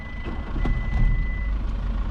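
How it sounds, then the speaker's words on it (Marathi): A car engine, one with some damage, is cranked on its self-starter and catches into a steady, loud low rumble. A thin constant tone runs alongside, and there is a brief louder surge near the start. "आणि अशा तऱ्हेनं गाडीही चालू झालेली आहे"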